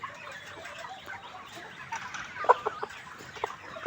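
Layer hens with watery, swollen eyes cluck softly in a poultry house, with a few sharper clucks over a low, steady murmur of the flock.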